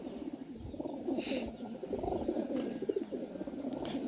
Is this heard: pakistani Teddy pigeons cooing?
yes